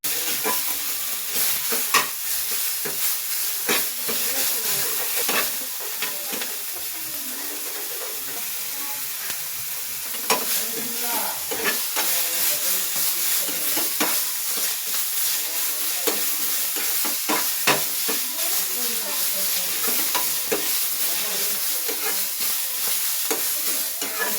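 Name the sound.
roasting masala ingredients in a pan for biryani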